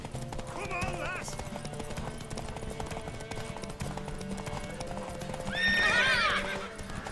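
In The Witcher 3, a horse's hooves clip-clop steadily at a gallop while voices talk throughout, and a loud whinny rises near the end.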